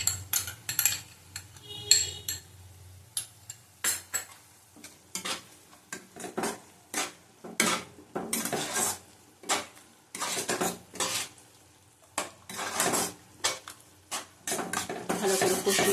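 A spoon scrapes and clinks against a pan while katla fish curry with sour yogurt is stirred over low heat, in repeated short strokes over a soft sizzle.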